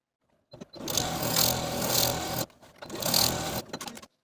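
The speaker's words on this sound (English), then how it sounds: "I'm going to sew the pocket to the side seam of the dress with a 1/2 inch seam allowance." A home sewing machine stitches a pocket to the side seam of a dress with a half-inch seam allowance, running in two steady, close whirring bursts separated by a short stop.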